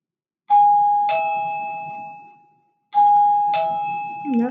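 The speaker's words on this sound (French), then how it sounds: "La sonnette." A doorbell chimes twice, each ring a clear two-tone ding-dong that fades out, followed by a brief muffled noise at the end.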